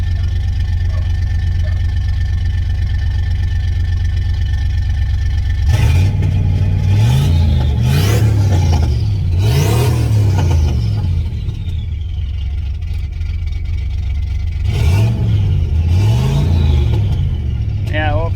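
A Ford Mustang Fox Body engine with low oil pressure runs rough and seems to misfire, idling unevenly with several short revving bursts that rise and fall, close by, with someone talking over it.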